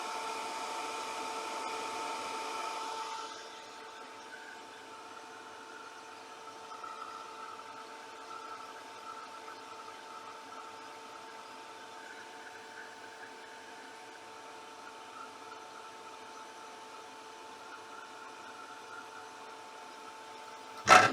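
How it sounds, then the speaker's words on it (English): A hair dryer drying sprayed craft pieces blows with a steady whirring hiss. Its airflow is strong and broad at first, then drops to a quieter, even hum that runs until a brief clatter at the end. "I'm now going to dry them."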